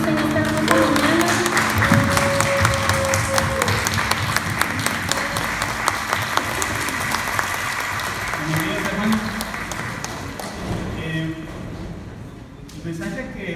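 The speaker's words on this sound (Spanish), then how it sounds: "Te voy a pedir que le des un fuerte aplauso al Señor Jesús en esta mañana." A church congregation at a Sunday morning service bursts into sustained, loud applause that fills the room throughout, with voices and cheering mixed in before it thins out near the end.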